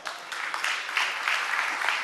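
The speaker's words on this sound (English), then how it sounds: "applause, please" Audience applause at a talk on implementing digital strategy and data science solutions, a steady broadband patter of many hands that stays fairly even and fills the whole two seconds.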